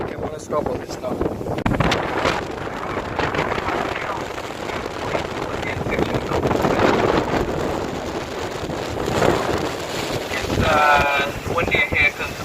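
Strong wind buffets a boat in Milford Sound, gusting roughly against the microphone with water and engine noise beneath, while people talk intermittently over it.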